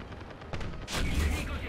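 Tank cannon fire from a Pz.III N in War Thunder, a couple of sharp gunshot-like booms with a heavy blast near the end, faint and brief, with some speech around.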